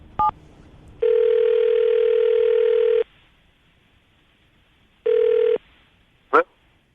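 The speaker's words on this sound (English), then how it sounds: "I'm going to dial the phone number right now" A telephone call begins with a short dial blip, then a long steady ringback tone, a pause, a second shorter ring, and a final brief chirp, all clear and close.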